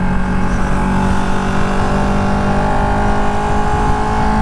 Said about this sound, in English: the quick shifter feels instantly better when you're revving it up